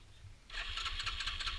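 A quad bike engine starts, a quiet background hum giving way to a rapid, rattling mechanical churn that keeps running to the end.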